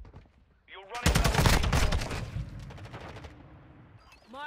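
Bursts of automatic gunfire from a ranked match of Call of Duty: Modern Warfare 2 video game, loud and dense for about a second, then thinning into scattered rapid shots. Brief voice sounds come at the start and end.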